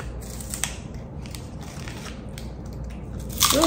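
Momogi, an Indonesian corn stick snack, crunched between the teeth in a few scattered bites over quiet background, with a louder crackly burst near the end.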